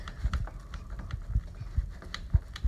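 Knife sawing into a cooked piece of meat, a series of dull, soft thuds and scrapes in an irregular rhythm, close and fairly quiet, with no talking.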